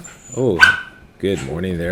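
A dog lets out a couple of close, loud barks and yips, and a person speaks a short greeting around them.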